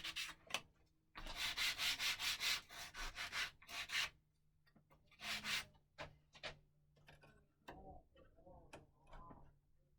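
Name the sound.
sanding wood with a sanding block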